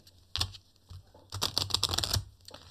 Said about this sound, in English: Let's give them a good shuffle.